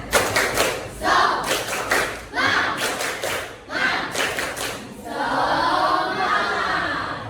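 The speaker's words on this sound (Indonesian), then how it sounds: "Ya, tepuk semangat." A group of teachers in a coaching session performs a rhythmic spirit clap, tepuk semangat, with bursts of patterned hand claps separated by short pauses, then a sustained loud round of clapping and crowd noise, close and energetic.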